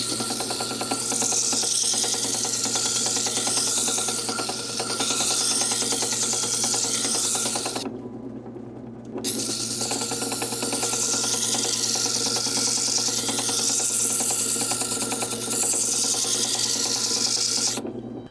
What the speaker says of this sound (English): if I continue to grind the knife, they'll become chips